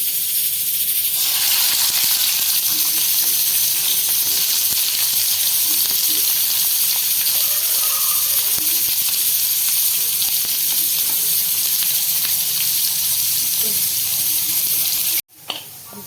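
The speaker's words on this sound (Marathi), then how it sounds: "कांदा छान गुलाबीसर भाजून झालेला आहे आपला." Onion and grated coconut fry in a hot pan for a spicy fish masala, making a loud, steady close sizzle that hisses evenly for about fifteen seconds before cutting off abruptly.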